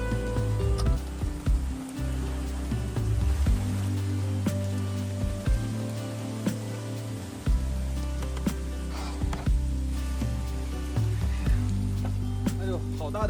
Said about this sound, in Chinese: 好大的雨啊！